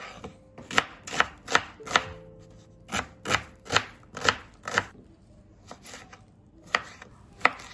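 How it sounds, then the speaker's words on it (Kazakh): Vegetables for a lecho salad, such as bell pepper, cucumber, green onion and dill, are chopped with a knife on a board in close, crisp strokes that come in uneven runs with short pauses. "Барлығын осылайша көбейтіп турап алатын боламыз."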